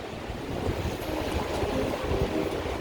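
A train rumbles past on a rainy day in downtown Chicago, a low, steady rolling roar heard at moderate distance with no talk.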